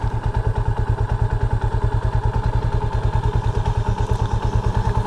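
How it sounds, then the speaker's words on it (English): A cheap motorcycle climbing a hill on a beach ride in the Philippines, its engine thumping loud and close in a fast, steady, clattering pulse throughout, with no talk over it. "This bike's making funny damn noises now when you're going up a hill."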